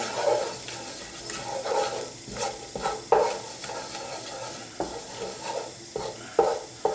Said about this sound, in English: This is the cumin seeds, and you can see them, I've crushed them, and they're going in.